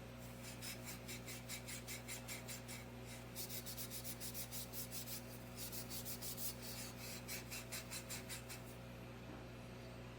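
A metal part from a World War II M1 Garand rifle being rubbed clean, a steady run of quick, rhythmic scrubbing strokes in bursts, close and fairly quiet over a constant low hum.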